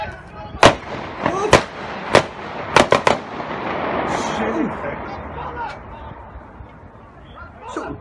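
Police gunshots in Den Haag, several sharp loud cracks fired in quick irregular succession over a few seconds, followed by quieter street noise and a person speaking nearby.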